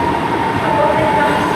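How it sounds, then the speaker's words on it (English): Northern class 158 diesel unit 158908 from Leeds rolling into Nottingham station to terminate, a steady loud rumble with a sustained tonal whine throughout and no clear voices over it. "terminating in now is a terminating northern train service from Leeds."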